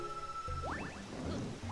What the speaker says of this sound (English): Because the rain does destroy your little bee suit